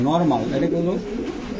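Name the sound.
racer pigeons cooing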